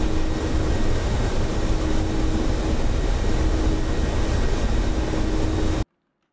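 Mi-24P Hind helicopter in flight in the DCS World simulator, a steady dense rotor and turbine roar with a faint tonal whine, continuous and even until it cuts off abruptly near the end.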